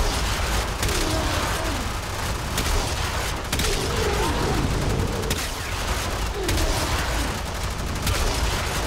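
Continuous rapid weapon fire from a Warframe gun, dense bursts of shots with mechanical clatter filling the whole stretch, loud and close with no pauses.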